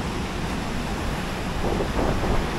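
Surf rolls in at an exotic Bengkulu beach on Sumatra's west coast, suited to surfing: a dense, continuous roar of breaking waves mixed with wind buffeting the microphone, with no voices.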